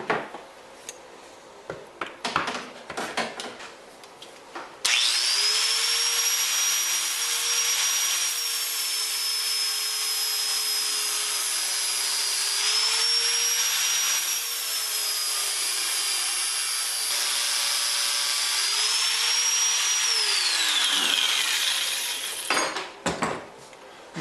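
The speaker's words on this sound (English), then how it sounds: "Pretty much just letting the weight of the grinder do the work" Angle grinder grinding a bevel onto a kitchen knife made from a saw blade, with a loud, sustained high whine lasting about eighteen seconds and pitch dips as the load changes, preceded and followed by clattering and handling noises.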